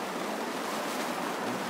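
The Batang Asi river flows in a broad, steady rush of water noise, even and continuous throughout, with no voices over it.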